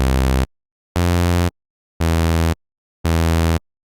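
Four bright, buzzy synth notes from Serum play MIDI notes in a row, each about half a second long with a short silence between, steady and loud.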